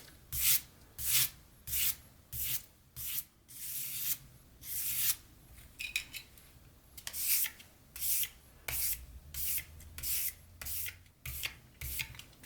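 Utility knife whittling a wooden mushroom, with about twenty steady rhythmic scraping strokes roughly every half second, close and fairly faint, each a short dry rasp of the blade shaving the wood.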